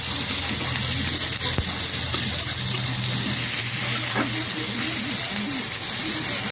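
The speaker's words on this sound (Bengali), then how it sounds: "পেঁয়াজটাকে ভালো করে ভেজে নেবো" Chopped onions fry in a hot pan with a steady, close, dense sizzle that holds at an even level throughout, with no voices.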